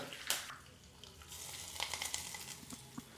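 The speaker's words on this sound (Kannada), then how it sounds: "ಈಗ ಸಿದ್ಧವಾದಂಥ ಈ ಒಗ್ಗರಣೆಯನ್ನು ಚಟ್ನಿಗೆ ಹಾಕ್ಕೋಬೇಕಾಗತ್ತೆ" Hot oil tempering with curry leaves poured into a chutney, giving a short burst of sizzling followed by softer, intermittent crackles, all faint and close, with no speech.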